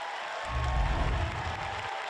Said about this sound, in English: It is a vocal home crowd here at the nation's capital.